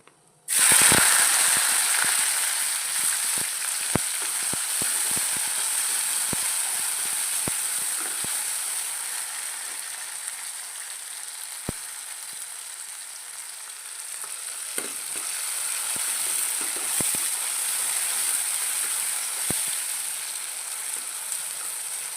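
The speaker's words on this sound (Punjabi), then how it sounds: "ਹੁਣ ਇਸ ਵਿੱਚ ਅਸੀਂ ਪਾਵਾਂਗੇ ਪਿਆਜ਼" Onions sizzle and crackle steadily in hot oil with cumin in a pot for Punjabi village-style kadhi, a loud continuous hiss from start to end with occasional sharper pops and stirring clicks.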